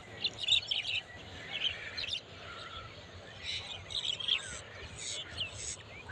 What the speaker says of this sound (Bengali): আর এইদিকে শালিক পাখির ডাকে চারিদিক